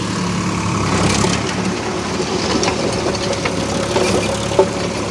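A small farm tractor engine idles nearby in a steady, even low chug that continues unbroken throughout, with no voices.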